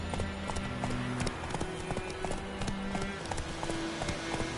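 Roach, the horse in The Witcher video game, trots with a brisk, steady clip-clop of hooves, close and clear against a low game ambience with faint tones in the background.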